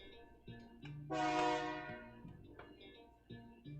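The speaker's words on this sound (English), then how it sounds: "Wow, train came." A passing train heard from nearby, its loud horn blaring for about a second over a low rumbling, rhythmic clatter of wheels, with no talking.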